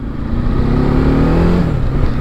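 A Bajaj Dominar 400 motorcycle with a misfire problem revving hard in second gear, a loud, close, steady engine roar with rising pitch and no talk.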